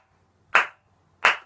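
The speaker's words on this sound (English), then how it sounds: "Round of applause for this complete idiot." Two short, sharp bursts of handclaps ring out separately against silence, sounding like a brief round of applause.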